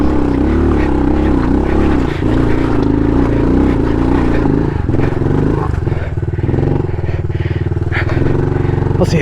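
A 110cc pit bike engine drones loud and steady while riding Colorado single track near 11,000 feet at Taylor Park, with a buzzing, continuous tone that shifts slightly in pitch throughout.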